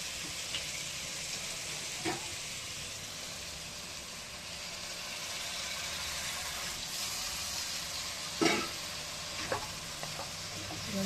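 Curry sizzling and frying in a pan while being stirred, a steady soft hiss with occasional scraping clicks from the spoon, fairly quiet and close.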